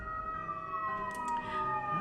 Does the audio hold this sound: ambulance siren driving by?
yes